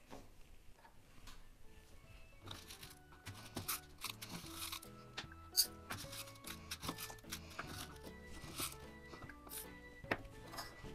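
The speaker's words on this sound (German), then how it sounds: "Jetzt kommt der Reis." Dry rice poured into a can for a sound-memory game, heard as a dense, faint rattling and pattering of grains that builds over several seconds, with soft clinks and no talk.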